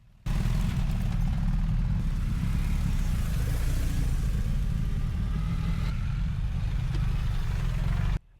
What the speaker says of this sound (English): I decided to hike back up and film the bikes coming down